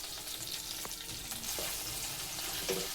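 Fish oil and fish roe fry in a pan with a quiet, continuous sizzle and a few faint stirring taps, heard alone without speech.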